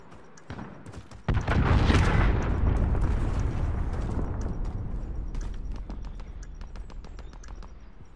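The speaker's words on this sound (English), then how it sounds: "Allied cruise missile on the way." A cruise missile strike in a shooter game lands as one sudden loud explosion, then a long rumbling tail that slowly fades, with scattered sharp gunfire pops before and after.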